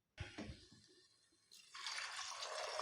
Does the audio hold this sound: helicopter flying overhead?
no